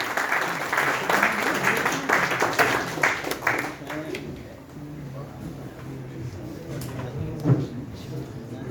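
Audience applause at a mushaira, an Urdu poetry gathering, with a dense burst of clapping that thins and fades after a few seconds into quieter room noise and murmur.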